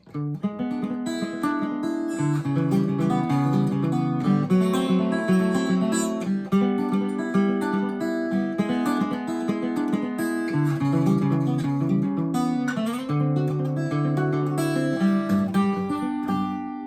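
A banjo plays continuous rolling arpeggios over shifting chords, bright and steady for the whole stretch, with no talking.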